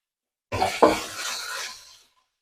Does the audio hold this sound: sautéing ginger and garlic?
yes